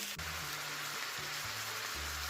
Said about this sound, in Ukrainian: І все це смажимо до готовності на середньому вогні.